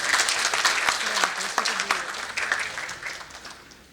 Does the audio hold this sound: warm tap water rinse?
no